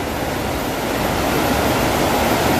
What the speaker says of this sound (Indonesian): Aliran sungai yang begitu sangat deras dan sangat berlimpah.